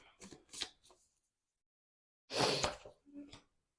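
Tarot cards are shuffled in two short, crisp riffling bursts separated by a silent pause, close and quiet.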